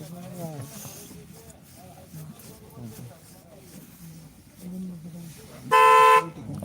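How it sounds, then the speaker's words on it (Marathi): A vehicle horn gives one loud, sustained blast of about half a second near the end, after a stretch of quiet talking and low background noise. "वा हॉर्न वाजू ते गाडीचे"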